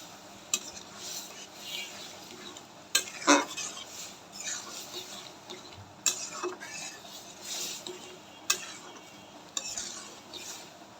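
Chickpea dal tipped into a hot pan and stirred: a soft sizzle runs underneath as a spoon scrapes and clinks against the metal, with a few sharper knocks, close by and fairly quiet.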